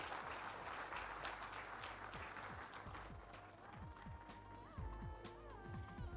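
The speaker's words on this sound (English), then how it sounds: "Zordar taaliyan ho jaye, please," An audience at a smart ports and safe navigation conference applauds the chief guest, a dense, continuous wash of clapping lasting throughout, moderately distant.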